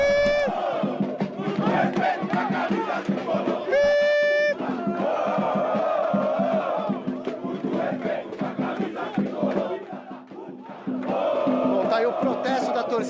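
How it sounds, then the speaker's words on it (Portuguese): Dozens of São Paulo football fans chant protest battle cries outdoors, rhythmic shouted voices rising and falling with sharp whistle-like yells, loud and close. "algumas dezenas de torcedores aqui, com aqueles cantos de guerra"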